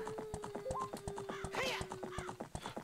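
Steady, rhythmic hoofbeats of a stolen horse galloping in Zelda Ocarina of Time 3D, with a brief whinny midway and a sustained game tone running underneath.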